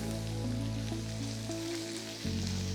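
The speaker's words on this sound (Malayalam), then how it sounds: "ഇതെല്ലാം കൂടെ ഒന്ന് വഴറ്റിയെടുക്കുക." Onion, garlic and ginger sautéing in coconut oil for a Kerala-style okra curry, a steady close sizzle with a low hum beneath it and a brief shift near the end, with no talk.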